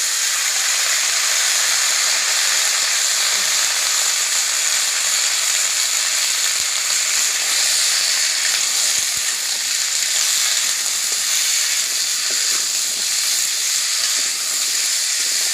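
Water lily stems fry in a pan in a village kitchen, giving off a steady, even hiss of sizzling that fills the whole stretch. Faint stirring clicks come through now and then, and nobody speaks.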